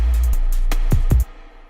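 Studio snare drum hits treated with long stretched reverb, several sharp strikes in quick succession whose tails ring out and then cut off abruptly, with no talking over them.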